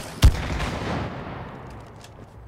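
A single sharp, booming blast goes off in the video game It Takes Two. A long rumbling tail slowly fades, and a faint second thump comes near the end.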